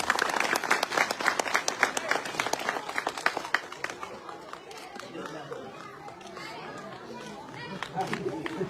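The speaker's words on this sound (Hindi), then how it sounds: "आप सब लोग जोरदार तालियों के साथ उनका स्वागत" A crowd at a rural blanket-distribution event applauds to welcome a guest being garlanded, loud rapid clapping that thins out after about four seconds into murmuring chatter.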